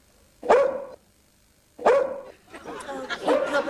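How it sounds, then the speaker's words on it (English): A sniffer dog barks furiously in two loud, sharp bursts close by, the second run longer and more ragged, with a short quiet gap between them. "And when they're sure they're onto something, they bark furiously."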